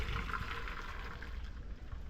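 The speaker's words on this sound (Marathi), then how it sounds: "हे बघा असे गाळून घ्यायचे" Hot water from boiled pasta draining through a colander, a soft continuous rush and trickle close by, fairly quiet and steady throughout.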